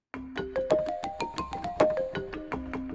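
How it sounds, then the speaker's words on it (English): Balafon sample from a Rob Papen Blade-2 synthesizer plays a quick run of about a dozen plucky, woody mallet notes in a wandering melody, each with a sharp attack and short decay, heard alone. "It's a balafon, and this is more realistic."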